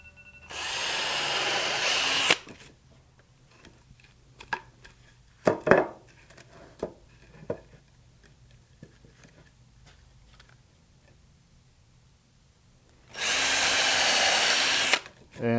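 Power drill boring pilot holes into compost bin wood, two loud sustained whirring bursts at the start and end, with quieter clicks and knocks of handling in between.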